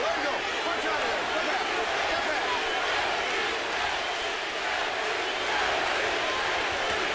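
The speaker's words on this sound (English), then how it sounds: "Crowd is chanting JT for Jermain Taylor." A boxing arena crowd chants and roars for a fighter during a Winky Wright versus Jermain Taylor bout, a dense, steady wall of voices that fills the hall.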